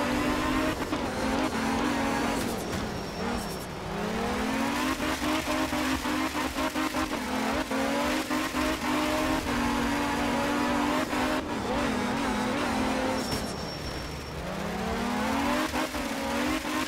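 A rally car in Art of Rally, on a wet Japanese stage, revs hard through repeated gear changes, its engine pitch rising and dropping in cycles with tire squeal and skidding, loud and continuous, with no voices.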